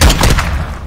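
Single shots from a video-game gun, fired on semi-automatic mode: a few close, punchy booms in quick succession, loud with low thuds.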